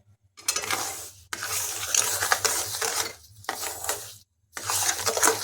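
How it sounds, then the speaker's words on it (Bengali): A spoon stirs sugar in a pan as it melts for amla candy: scraping, faintly sizzling strokes come in several separate bursts with short silent gaps between them, and no one talks. "এখন এটা নেড়ে চিনিটা গলিয়ে নিতে হবে, আর সমানে নাড়তে থাকতে হবে, না হলে তলায় ধরে যেতে পারে"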